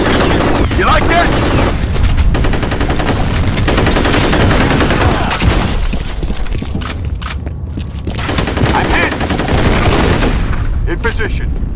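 Combat in F.E.A.R. with a thrown grenade blast and heavy automatic gunfire, loud overlapping bursts and booms running almost continuously, with game voices speaking over the battle.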